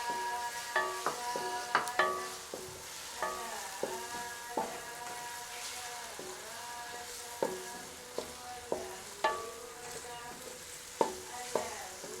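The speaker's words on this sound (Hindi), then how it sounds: "टमाटर और प्याज हमारे फ्राई हो गए" Tomatoes and onions fry in a pan as a spatula stirs them: a soft continuous sizzle broken by repeated close metallic scrapes and clinks at an irregular pace.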